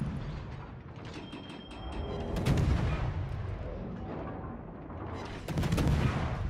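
Warship main battery guns firing in the naval combat game World of Warships, heavy booming salvos with mechanical turret clatter, loud and close, rolling over a continuous low rumble.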